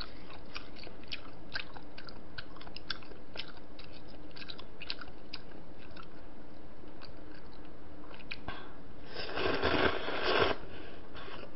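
Close, crunchy chewing of crispy sweet and sour pork (tangsuyuk) with plum sauce, repeated bites and crunches building to a louder burst of crunching near the end, over faint background noise.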